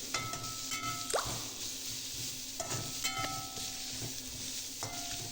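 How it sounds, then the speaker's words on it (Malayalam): Onions sauté in a pan with a soft, continuous sizzle, broken by a few light spatula clinks and scrapes at close range. "സവാളയൊക്കെ നന്നായി വഴന്ന് വരുമ്പോൾ നമുക്ക് ബാക്കിയുള്ള ചേരുവകളൊക്കെ ചേർക്കാം."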